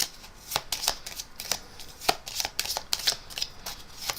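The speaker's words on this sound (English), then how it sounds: "take their other pile of cards and again shuffle the cards well" A pile of playing cards is shuffled during a card trick, giving quick rippling riffles and sharp flicks in an uneven rhythm, close and fairly soft with no talking.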